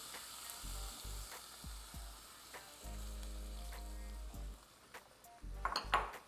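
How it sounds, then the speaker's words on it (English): Heavy whipping cream poured into a hot, sizzling pan for a chicken-loaded baked potato dish, a steady close frying hiss swelling in bursts, with a few light utensil clinks near the end. "you're going to add in about a cup of heavy whipping cream"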